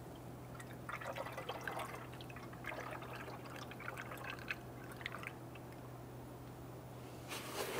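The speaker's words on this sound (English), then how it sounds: "Using the appropriate coolant, go ahead and fill up that tank." Coolant trickles and splashes as it is poured to fill a tank, a faint, irregular liquid gurgle over a low steady hum.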